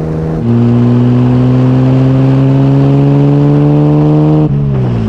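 A 1959 Jaguar SS 100 recreation engine runs loud and close, holding a strong steady drone that climbs gradually in pitch before a sudden drop near the end.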